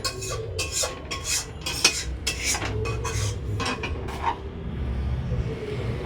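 Curry gravy is ladled into two bowls: repeated close metallic clinks and scrapes of a ladle against pot and bowls, coming in quick irregular bursts before settling into a quieter background.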